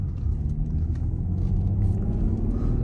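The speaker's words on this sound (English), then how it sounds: "we doing a little POV drive action in the X6" A BMW X6 on the road, its engine and tyres giving a close, steady low rumble with slight swells of throttle, constant through the whole stretch with no voices.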